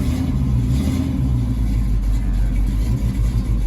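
A Firebird's engine idles on its own after starting, a steady, loud, low rumble that holds evenly throughout with no voices.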